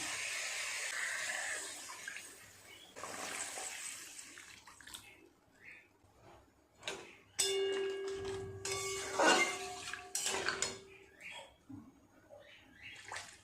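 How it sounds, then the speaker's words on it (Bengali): Water is poured into a cooking pot holding pabda fish with potatoes and pointed gourd, giving close, splashy pouring bursts with a few metallic clinks in a quiet kitchen. "পরিমাণ মতো জল দিয়ে দেবেন।"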